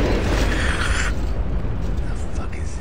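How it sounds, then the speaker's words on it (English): A loud, dense blast of explosion noise with rumbling, rattling gunfire from the video game Vampire: Bloodlines fills the whole stretch, heavy and continuous at close range. "You don't seem to react much to an explosion and machine gun fire."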